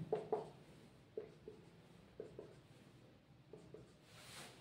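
Marker or chalk strokes on a board while a hydrocarbon structure is drawn, coming in short scratchy bursts separated by pauses, fairly quiet with no talking.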